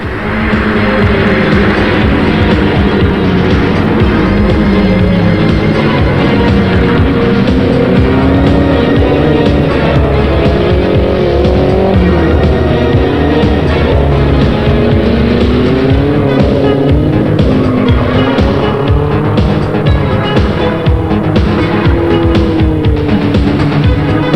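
Saab Turbo race cars battling through Goddard Corner onto the main straight, engines close and loud with shifting revs, gear changes and tyre squeal, continuous racing noise with no talk over it.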